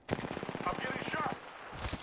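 Rapid automatic gunfire in the video game Apex Legends, a close, steady stream of evenly spaced shots for about a second and a half, with a voice heard alongside.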